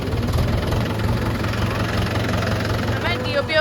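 Tractor engine chugging steadily while being driven through a muddy field, a low rumbling drone with a knocking pulse, close and continuous, with people talking over it.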